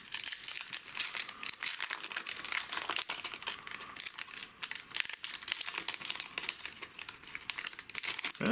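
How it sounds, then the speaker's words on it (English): Crinkly plastic wrapper of a Yu-Gi-Oh Genesis Impact booster pack being struggled with and torn open, loud close crackling and tearing bursts continuing without pause for several seconds. "My god, that one didn't want to open."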